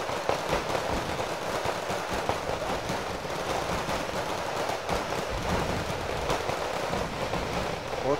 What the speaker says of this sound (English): here comes the slaughterhouse of machine gun fire